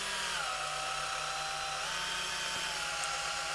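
A polishing pad buffing a clear-coated R2-D2 dome gives a steady, continuous whir with a faint tonal hum throughout, heard alone at low level.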